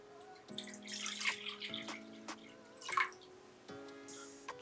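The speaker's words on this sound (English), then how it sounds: "you pour all your water into your bowl." Water poured into a big mixing bowl for a bread starter, a faint trickling and splashing in short bursts with soft drips between, quiet and close.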